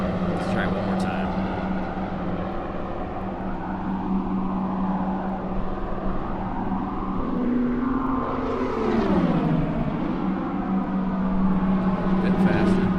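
Aeroplane Heaven P-47D razorback in a flight simulator game, a steady droning engine hum with a strong low tone that shifts pitch midway and swells back, running continuously under occasional voices.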